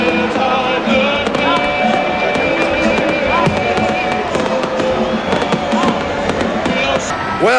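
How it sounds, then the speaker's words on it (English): Fireworks bursting over the Sydney Opera House, a dense loud barrage of crackling pops and booms over a cheering crowd, with a voice talking on top. "The fireworks are blazing over the top of the Opera House."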